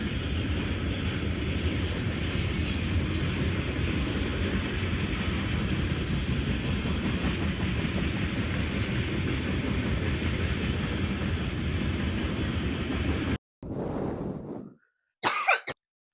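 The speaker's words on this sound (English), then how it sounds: "brief intermission of this train going by" A train rumbles past outdoors, a loud continuous roar and rattle of railcars lasting about thirteen seconds before cutting off, followed by a couple of brief close coughs or throat clearings.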